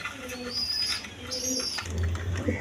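Pigeons coo at a wholesale pigeon market, including Danish and Kagzi breeds, with soft repeated coos throughout and a low rumbling murmur of the crowd beneath.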